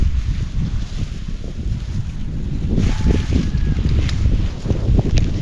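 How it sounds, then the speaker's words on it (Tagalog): A chilly wind blows hard and steadily, rumbling against the microphone up close, with faint rustling and a brief thin whistle partway through; no one speaks. "Ang lamig ng hangin."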